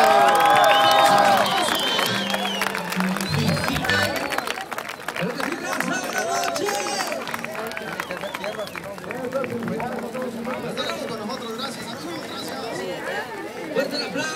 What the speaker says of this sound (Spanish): Fuerte el aplauso aquí en las fiestas de la misión